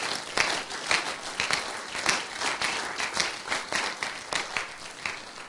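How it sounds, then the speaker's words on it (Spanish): A church congregation claps together in praise during a Spanish-language service, steady mid-distance applause with uneven bursts of hands that rises and falls over several seconds. "Damos un aplauso fuerte al Señor."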